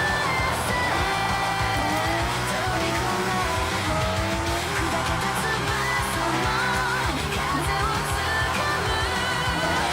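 In a racing video game, a car drifts with its engine roaring loudly and its tyres squealing in long, sustained screeches that carry on unbroken throughout.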